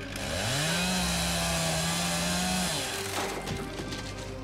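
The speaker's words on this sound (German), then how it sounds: "wir haben eine Kettensäge. Weil eine Kettensäge cool ist. Ah, damit können wir doch den Ast absägen." In the video game Dreamscapes: The Sandman, a chainsaw revs loudly and cuts through a branch, its engine pitch climbing and holding steady for a couple of seconds before dropping off as the wood gives way, heard close with no talking.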